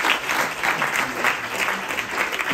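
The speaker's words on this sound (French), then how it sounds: "on va applaudir nos invités" Guests at a company round-table evening on workplace inclusion receive steady applause from the audience, a dense wash of clapping that holds at an even level for a couple of seconds with no speech over it.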